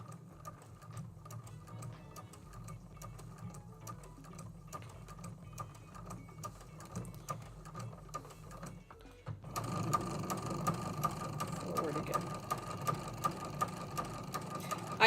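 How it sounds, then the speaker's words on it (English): A sewing machine fitted with a walking foot stitches a T-shirt table runner slowly, a steady mechanical chatter that grows louder and busier partway through, with no talking over it. "I go really, really slow with my walking foot because I'm not used to it."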